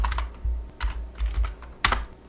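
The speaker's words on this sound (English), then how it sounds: "And now let's type in our command," Clicky computer keyboard typing a command in bursts of keystrokes, close and fairly quiet, with no talking.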